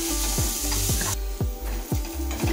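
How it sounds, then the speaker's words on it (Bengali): Onions sizzle steadily in a hot pan over a low flame while being stirred, with a soft rhythmic scrape of the spoon about every half second, close and continuous. "এখনও পেঁয়াজগুলোকে আমরা লো ফ্লেমে আরও 2 মিনিট ধরে ভাজা করে নেব।"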